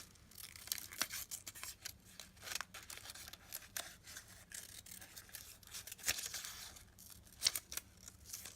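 Scissors cut roughly around a paper mask, a run of quick, close, crisp snips and paper rustles in an uneven rhythm, with no talking.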